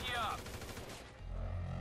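Gunfire in the video game GTA 5, a dense burst of rapid shots at the start followed by continued rumbling fire and low booms, loud and close with no talking over it.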